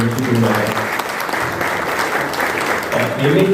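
An audience claps at a Journalists' Day event in Jalgaon, a dense, steady round of applause with a voice speaking over it at the start and end.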